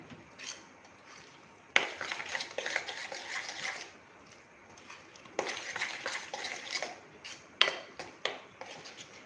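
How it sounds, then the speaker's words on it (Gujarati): Semolina batter being mixed in a bowl, close scraping and knocking of a spoon in bursts separated by quieter pauses. "બેટરને એકદમ સરસ આપણે મિક્સ કરી લેશું."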